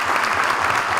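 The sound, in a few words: audience applause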